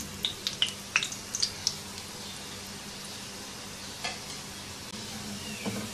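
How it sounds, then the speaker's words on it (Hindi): Shami kebabs fry quietly in a pan, a soft, steady sizzle with a cluster of small crackling pops early on, then a low even hiss, near and faint, with no talking. "एक तरफ से फ्राई हो जाए तो साइड पलट देंगे"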